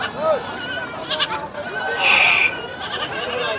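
Goats bleat a few times in a noisy outdoor livestock market, with people talking nearby and a busy background hum.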